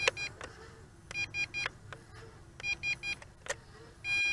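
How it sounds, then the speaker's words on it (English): An Eachine EX2mini brushless FPV drone sounds its low voltage warning: short repeated electronic beeps in irregular bursts, ending in a longer sustained tone, over a soft background hum. "I'm starting to get a beep, and that would be the low voltage warning."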